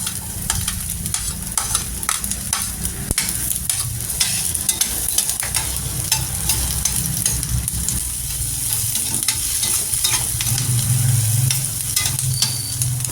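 Onions sautéing with ginger in a hot pan for sweet and sour fish fillet, a steady continuous sizzle with occasional stirring scrapes throughout, close and fairly loud, no talking.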